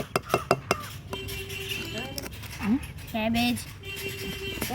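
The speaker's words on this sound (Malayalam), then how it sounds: "ഞാൻ സ്പൂണായിട്ട് കേബേജ് ഇട്ട് കൊടുക്കും" A spoon serving cabbage onto a plate, with several sharp metallic clinks and scrapes against the dish, some of them ringing briefly, close by and mixed with short bits of voice.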